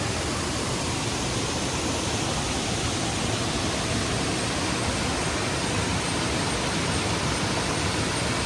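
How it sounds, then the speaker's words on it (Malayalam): A waterfall at Erappanchaal near Pathanamthitta, heard from close by as a loud, unbroken broadband roar of rushing water that holds steady throughout with no voices. "ഒരു സൂപ്പർ വെള്ളച്ചാട്ടം, അവിടെയാണ് ഞങ്ങൾ നിൽക്കുന്നത് കേട്ടോ."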